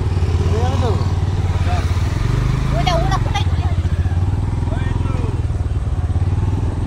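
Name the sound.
motorcycle riding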